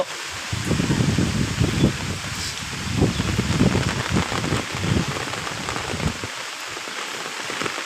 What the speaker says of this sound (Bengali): এত বৃষ্টি এত পানি যে আমি নিজেই কাঁপতে আছি